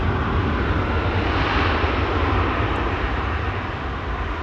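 A departing aircraft's engines roar on a runway at Amsterdam Schiphol Airport, a broad, steady, loud rumble that fades slightly toward the end, with no voices.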